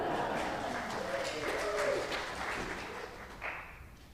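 A church congregation breaks into applause at a Sunday worship service, a soft, scattered patter of clapping heard from a distance that fades gradually toward the end.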